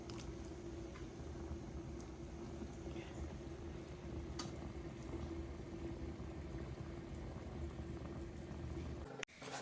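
A pot of fish curry bubbles at a steady boil, dense soft popping and gurgling close by with no voices.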